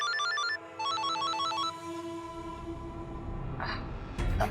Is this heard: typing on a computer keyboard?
no